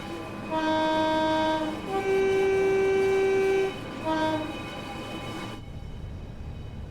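Class 87 electric locomotive on the West Coast Main Line between Preston and Carlisle in Train Sim World, sounding a two-tone horn in three blasts over a low rumbling drive, then fading to quiet running.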